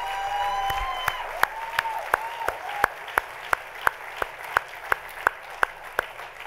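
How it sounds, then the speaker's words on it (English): Applause from the audience at an Innocence Project benefit gala, broad crowd clapping under fading voices at first, then thinning into a slow, steady run of single loud claps near by, spaced evenly. "Give them another round of applause."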